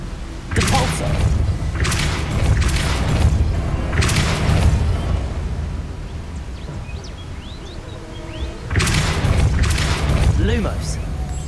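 Depulso force spell cast in Hogwarts Legacy, heard as several loud booming thuds with whooshing bursts, a cluster early on and another near the end, over steady game ambience.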